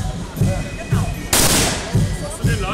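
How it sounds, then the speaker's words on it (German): Rifles crack at a bird-shooting festival in Neheim, several sharp shots spaced about half a second apart, one especially loud and close with a long ringing tail. "Sehr gute Schüsse"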